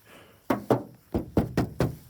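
Metal doors on an old car, parked by a shop and yard, are shut one after another, giving seven sharp, solid thunks in an uneven rhythm, close and clear with no talking.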